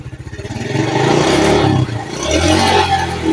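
A motorcycle engine revs up hard during a battery charging test, climbing from a pulsing idle to a loud sustained roar close by, then easing and rising again.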